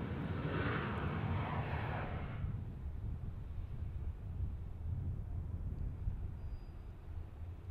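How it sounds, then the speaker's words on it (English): Boeing 717 airliner departing Detroit Metro Wayne County Airport, a steady broadband jet engine roar that is loudest over the first two and a half seconds and then settles into a continuous lower rumble with wind noise. "Seven-one-seven departing."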